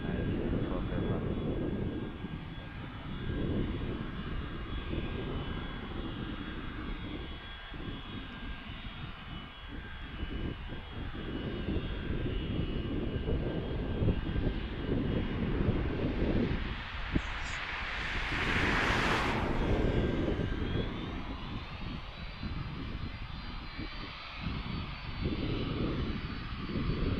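A Jetstar airliner taxis at Philadelphia airport, its steady jet engine roar rumbling throughout and swelling briefly to a louder hissing peak, while occasional talk and light wind noise sit underneath.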